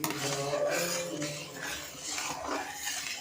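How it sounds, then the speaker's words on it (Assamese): Milk is stirred in a kadai, with a metal utensil scraping and clinking against the pan in a steady, moderately loud rhythm and faint background sound behind it. "এতিয়া ধুনীয়াকৈ গাখীৰখিনি একদম লৰাই থাকিম"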